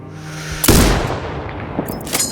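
A single loud sniper rifle shot in the video game Sniper Ghost Warrior Contracts 2 booms close by, its rumbling tail fading with the echo over a second, and some faint clicks follow.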